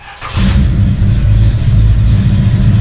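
A Ford F100 pickup truck engine runs loud and close, its steady low rumble starting up after a brief quiet moment and then holding a healthy, even idle with a slight rev throughout.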